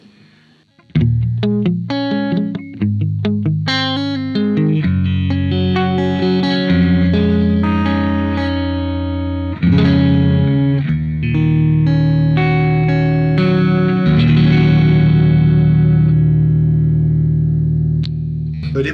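An Ibanez AZES electric guitar runs through heavy distortion, playing a busy riff of chugging chords and single-note runs, then settling into long sustained power chords, loud and continuous with no voices.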